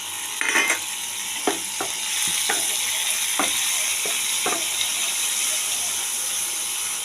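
Spices go into hilsa fish head and bottle gourd frying in a pan, a steady hiss of sizzling oil with several sharp scraping stir clicks, close and fairly loud, no talking.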